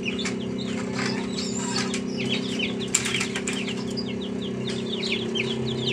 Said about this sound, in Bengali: এগুলো টাইগার মুরগির বাচ্চা।